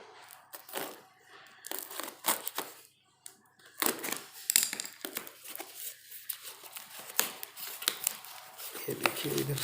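Someone works tight packaging free from around a TVS keyboard, making close, busy crinkling, tearing and scraping sounds in quick irregular bursts, with someone talking over parts of it.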